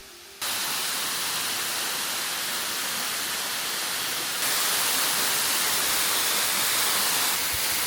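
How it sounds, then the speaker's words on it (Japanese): A large waterfall at a shrine with a torii gate in Miyazaki, Japan, roars as a steady, dense broadband rush that stays loud and constant throughout, with no voices over it. "大滝だけでもかなり神秘的な雰囲気がありますが"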